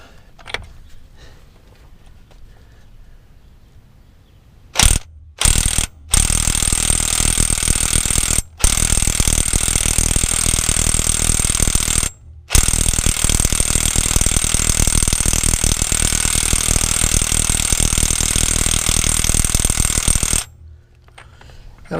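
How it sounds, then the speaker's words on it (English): Electric impact wrench hammering on the pinion nut of a 2004 Nissan Titan during a pinion seal job, loud continuous rattling bursts with short pauses between trigger pulls, close up, no talking. "I don't know if this electric wrench is going to have the power to do it."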